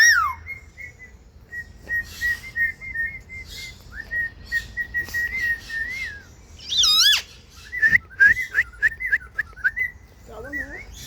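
A bird whistles clear, sustained tones, some held steady and others sliding up and down in quick warbling runs, with short pauses between phrases and faint voices in the background.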